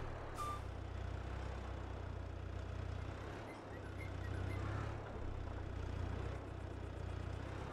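A farm vehicle reverses in the Farming Simulator 22 game, with a steady low engine drone and faint reversing beeps running throughout, fairly quiet with no talk.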